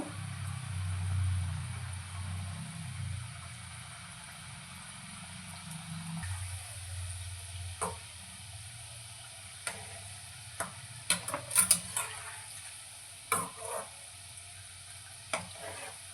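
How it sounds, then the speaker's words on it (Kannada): Shankarpali fry in medium-hot oil with a soft, steady sizzle and bubbling, quiet and continuous, broken by occasional sharp clinks and taps of a utensil against the pan. "ಮೀಡಿಯಮ್ ಊರಿಯಲ್ಲೇ ಬೇಯಿಸ್ಕೋಬೇಕು ಗೋಲ್ಡನ್ ಕಲರ್ ಬರೋವರೆಗೂ ಫ್ರೈ ಮಾಡ್ಕೊಳ್ಳಿ"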